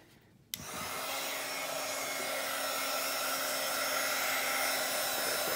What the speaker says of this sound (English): I'm just going to quickly dry it